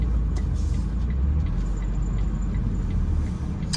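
A car drives along a smooth asphalt street in West Philadelphia, a steady, close road rumble with low tyre and engine noise running throughout, no talking.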